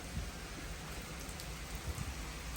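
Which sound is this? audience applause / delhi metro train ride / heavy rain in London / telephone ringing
heavy rain in London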